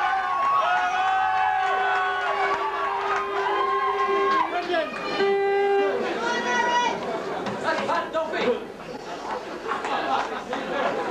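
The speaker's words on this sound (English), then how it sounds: "A big crowd" A big crowd at an FAI Under-18 Youth Cup Final at Myles Park murmurs and chatters steadily, with overlapping voices and occasional calls building into a continuous hubbub.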